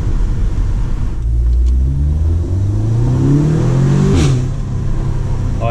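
A car engine roars loudly and up close, revving higher as it accelerates, with a steady rumble beneath the rising pitch.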